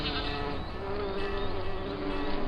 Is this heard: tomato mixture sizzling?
no